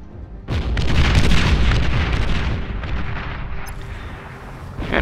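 Dreadnought artillery firing and explosions in the strategy game Beyond All Reason: a loud booming blast that starts suddenly, then a rumbling roll of further impacts that slowly fades, with a sharp crack near the end.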